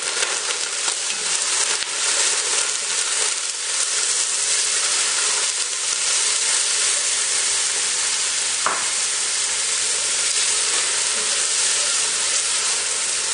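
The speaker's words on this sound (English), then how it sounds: "I'm going to let that beef cook for a couple minutes" Beef sizzles in about three tablespoons of olive oil in a pot. A loud, steady frying hiss fills the whole stretch with no talk over it.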